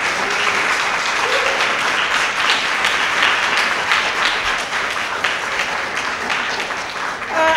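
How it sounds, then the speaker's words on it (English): Sustained applause from the audience at a school board meeting, a steady wash of many hands clapping with a few faint voices mixed in, filling the room for several seconds. "I would appreciate that we hold the applause to a minimum"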